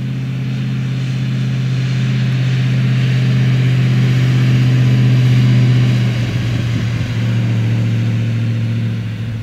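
A 1935 Horch 850 Sport's engine labouring up a steep hill, a loud, deep, steady drone close by that holds under load, then dips and settles as the gradient eases.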